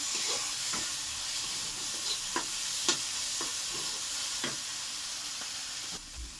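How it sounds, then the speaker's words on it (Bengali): Ginger, pepper and ripe red chilies sauté in a pan with a continuous hissing sizzle. Repeated sharp clicks and scrapes come from a stirring spoon, with no voices. "দিয়ে আমি একটু ভালো করে কষাবো, নেড়ে চেড়ে।"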